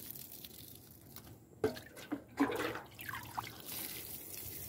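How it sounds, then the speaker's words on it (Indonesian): Water poured onto watermelon plants in a village garden, a few splashing bursts and trickles over a soft outdoor background, fairly quiet and close. "Ini kita siram dulu."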